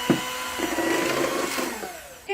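An electric mixer whirs at low speed through lemon bundt cake batter, a steady motorized whine that changes pitch slightly as it runs, then stops before a brief knock at the end.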